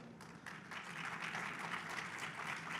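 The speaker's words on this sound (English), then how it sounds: "A round of applause for" An audience at the FICCI BAF Awards breaks into applause, a soft, fairly distant wash of clapping that swells after a brief pause and holds steady.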